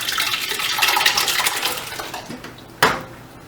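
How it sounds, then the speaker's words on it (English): Tomatoes pour into a cooking pot with a wet, sloshing clatter and scrape of metal, ending in a sharp clunk, with no one speaking over it. "We're just going to pour them right into the pot."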